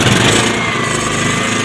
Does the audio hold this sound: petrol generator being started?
yes